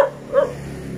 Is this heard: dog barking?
yes